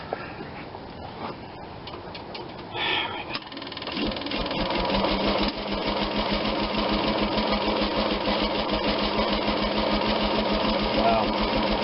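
A small engine on a kept-ready RV runs with its throttle and choke being adjusted, a steady rapid chugging rumble that builds and stays loud after the first few seconds, with a voice talking over it.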